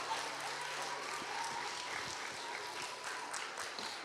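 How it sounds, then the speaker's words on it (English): Audience applause for children after a game show at a National Easwaramma Day gathering, a steady, even wash of clapping that holds at one level for a few seconds without any voices. "Can we give the kids a huge round of applause?"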